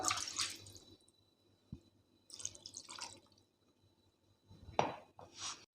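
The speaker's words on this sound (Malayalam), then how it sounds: "ഈ ബൗളിൽ നമുക്ക് കുറച്ച് വെള്ളം ചേർത്ത് കൊടുത്തിട്ട് ഒന്ന് കലക്കിയെടുക്കാം" Water added to a bowl of masala for Kerala-style duck curry and stirred, heard as a few separate bursts of splashing and dripping with quiet pauses between them.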